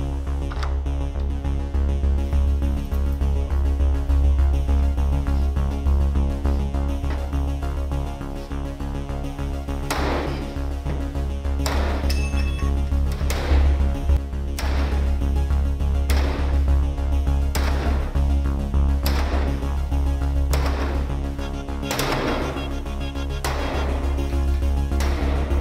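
A sledgehammer repeatedly striking a classroom door secured with a Nightlock lockdown device: a series of sharp, loud impacts at irregular intervals over a constant low hum, with no talking.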